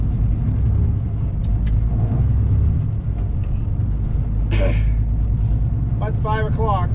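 A truck rolls along the road toward a fuel stop with a steady, loud engine rumble and road noise throughout, a brief hiss-like burst midway and faint squeaky sounds near the end.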